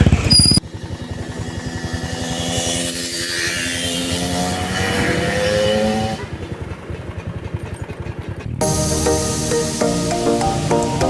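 Motorcycle riding along a road with its engine buzzing and droning steadily, changing pitch as it speeds up and gears shift, close and loud with wind noise.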